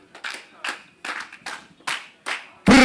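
An audience at a session claps in evenly spaced single beats, seven in a row, then breaks into a sudden loud burst of noise at the end.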